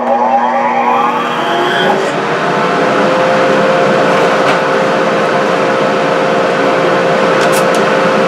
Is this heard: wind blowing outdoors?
no